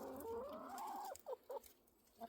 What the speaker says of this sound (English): I'm gonna have to get the chickens out of here in just a second.